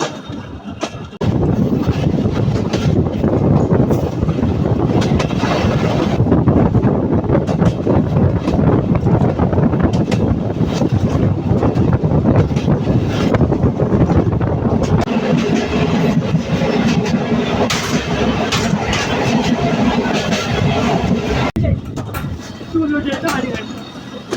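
Local passenger train running along the rails toward the next stop, a steady loud rumble with rhythmic clatter and wind buffeting throughout, the sound shifting partway through as the carriage moves.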